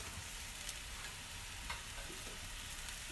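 Magur fish goes into a simmering curry, a soft continuous bubbling sizzle with a few faint clicks of a pan or spoon, low and steady throughout.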